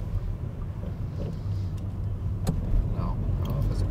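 A car pulling away in second gear on a driving lesson in Berlin, a low steady engine rumble and road noise close inside the cabin, with people talking over it.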